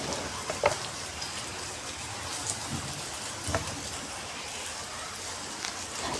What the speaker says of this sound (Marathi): बाहेर पाऊस चालूच आहे